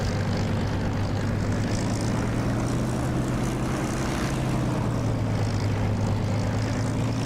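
A propeller aircraft in the DCS flight simulator game drones steadily as it takes off from a taxiway, a loud continuous engine tone holding for several seconds without pause.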